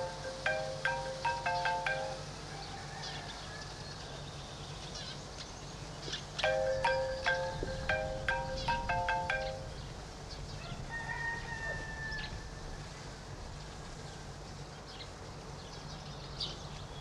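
A mobile phone ringtone plays a repeating electronic melody in short bursts over quiet room tone, with pauses between rings and no talk.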